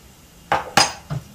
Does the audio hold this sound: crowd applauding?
no